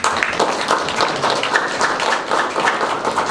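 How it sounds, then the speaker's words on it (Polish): At a ceramics festival event in Włocławek, an audience breaks into loud, close applause, a lively, slightly rhythmic burst of clapping from a moderate crowd that carries on for several seconds. "Brawa"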